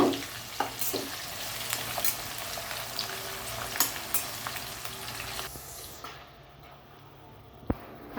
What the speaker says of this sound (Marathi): कांदा कापलेला आहे तेलामध्ये टाकून गुलाबी रंग येईपर्यंत चांगला